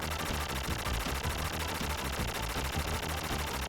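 Continuous dense gunfire from a boss enemy in the Contra Hard Corps video game, a steady loud rattle of shots with a rhythmic electronic pulse running through the whole stretch and no pauses.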